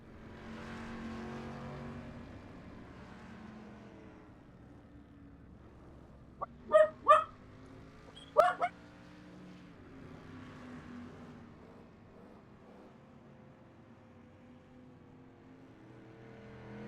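Race cars circle a track under a pace vehicle, heard as a faint, low engine drone rising and falling in the distance, with a few sharp bird-like chirps breaking through midway.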